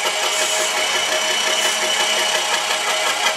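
A Q88E line boring machine cutting at higher RPM with a carbide tool gives a steady, loud, dense mechanical whir and grinding hiss without pause.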